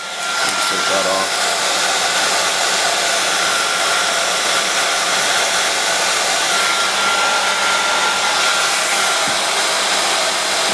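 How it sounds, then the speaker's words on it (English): A heat gun blows hot air continuously during battery relocation work on a 240ZX, a loud steady rushing whoosh that runs unbroken from start to finish, close to the microphone. "Take our heat gun. Warm up."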